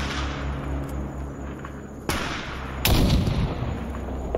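A few sharp gunshots from the STALKER Anomaly shooter game crack over a low steady background hum, with one heavier blast followed by a rumbling tail.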